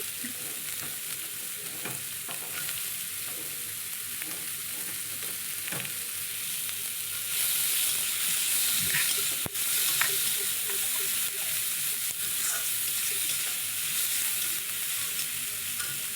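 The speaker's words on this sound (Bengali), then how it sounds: "তারপরে দেখো এখানে যে পেঁয়াজ ছিল পেঁয়াজটাও ভেজে নেবো" Chopped onions frying in a pan for mixed fried rice, a continuous soft sizzle with occasional stirring scrapes and clinks, growing a little louder partway through, with no talking.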